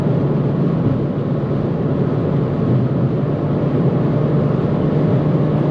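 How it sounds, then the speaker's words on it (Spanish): An Abarth 595 runs at full throttle with its small turbo on a German autobahn, giving a loud, steady, unbroken engine and road roar heard from the cabin with no talking. "Pisamos a máximo y pumba. Es que entra el turbo"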